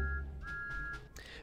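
Thomas the Tank Engine's whistle sounds in the game Garry's Mod, a quiet steady high-pitched tone sustained for about a second, then a brief rising toot at the end over low background hum.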